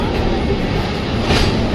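Steady rumble and rattle of a moving passenger train, recorded from inside a carriage, a continuous dense roar with no breaks over a couple of seconds.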